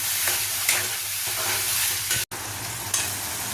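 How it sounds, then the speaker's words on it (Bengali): Spice masala for fried paneer masala sizzles steadily in a pan after a splash of water, with a few scraping stirs breaking through the close, continuous frying hiss. "এবার ভালো করে মশলাটাকে আমি কষিয়ে নেব।"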